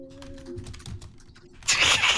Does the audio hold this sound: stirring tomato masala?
no